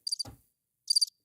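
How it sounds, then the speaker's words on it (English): Two short bursts of high, trilling cricket chirps, used as a sound effect, separated by a brief dull thump and silence, clear and close. "Crickets"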